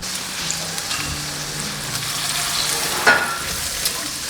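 Food sizzles and fries steadily in a hot pan, a continuous close crackling hiss with a few brief louder pops, and no voices.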